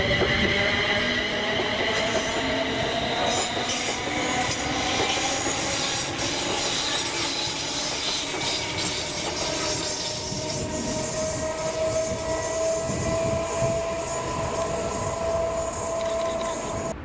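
A Scotrail class 380 electric passenger train, two units coupled, runs past on the Ayrshire Coast line to Glasgow Central, a loud steady roar of wheels and motors with faint squeal throughout, no voices.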